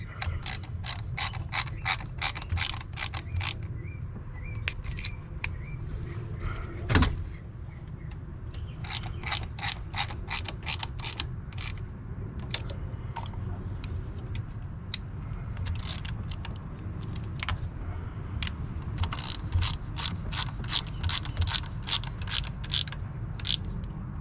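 A ratchet snugs bolts on the coolant outlet of a 2019 Chevrolet Sonic, rapid clicking bursts repeating in quick runs with short pauses, close and crisp over a low background hum.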